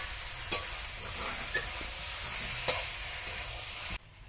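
Meat being stir-fried for kosha in a pan, a steady close sizzle with a few sharp scraping clacks of the spatula, cutting off abruptly near the end.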